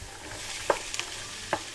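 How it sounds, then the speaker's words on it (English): Beef mince fries in a pan, a continuous moderate sizzle with a few sharp clicks and scrapes of stirring. "So my mince is going to go in this fry pan. I'm going to fry it off"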